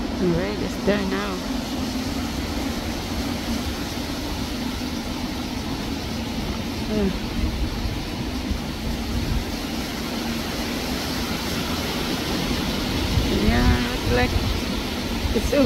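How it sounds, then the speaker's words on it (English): Strong wind blows in a continuous roaring rush with deep rumbling gusts that swell slightly toward the end. Someone speaks intermittently underneath the noise. "Oh, it's so windy."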